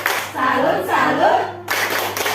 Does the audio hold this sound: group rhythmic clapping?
yes